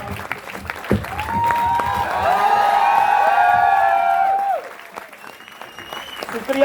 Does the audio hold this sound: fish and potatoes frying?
no